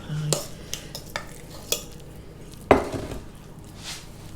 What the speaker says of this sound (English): so you're filling your pastry case